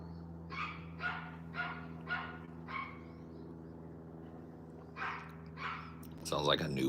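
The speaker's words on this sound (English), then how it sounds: "It's either a puppy or just a little, like, Pomeranian or something." A small dog, a puppy or Pomeranian, yaps in a quick run of sharp high barks that pause and then resume, heard fairly close over a steady low hum, with a voice briefly at the end.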